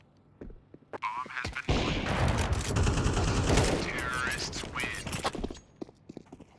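Dense, rapid gunfire in a competitive Counter-Strike match, a near continuous fusillade of shots lasting several seconds, with a commentator talking before and after the burst.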